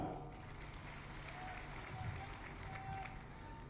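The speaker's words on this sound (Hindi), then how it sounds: "आप सबके लिए जोरदार तालियां।" Applause from a crowd at a state-level municipal representatives' event with the Chief Minister, a faint, continuous wash of clapping heard from a distance with no break throughout.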